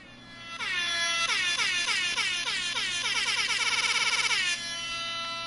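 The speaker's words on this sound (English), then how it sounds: "I forgot to play the air horns at the beginning of the episode." Air horns blast in a fast stuttering sequence on a podcast, a loud cacophony of repeated falling horn tones lasting about four seconds and then cutting off abruptly.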